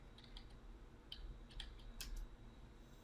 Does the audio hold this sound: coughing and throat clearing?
no